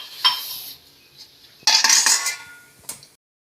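Ragi flour and semolina being stirred into boiling milk in a kadai produce a few short metallic scrapes and clinks of a spoon, including one louder burst of stirring.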